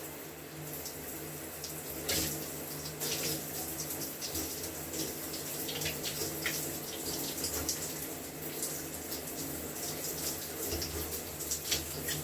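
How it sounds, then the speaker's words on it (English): Shower water runs continuously while hair is rinsed, a steady broadband splashing hiss with occasional louder spatters and small bumps, close and unbroken, with no talking. "Use the shower if you need to."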